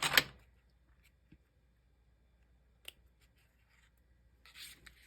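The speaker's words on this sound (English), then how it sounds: "I wanted to cut this piece off here too." Scissors cutting a piece of card at a craft table, a short crisp snip at the start, then mostly quiet with a faint tick and another brief snip, ending in a soft rustling burst.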